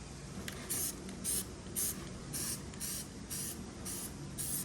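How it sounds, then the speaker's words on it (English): Aerosol spray paint applied to parts during a hydro assist cylinder and high steer install, heard as about eight short, even hissing bursts in steady rhythm, close and fairly loud over a low background hum. "We're going to spray some paint"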